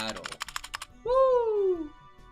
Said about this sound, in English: you can see me reach over here to hit keys, like non-stop.